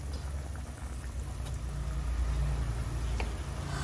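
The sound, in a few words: sinigang soup boiling in pot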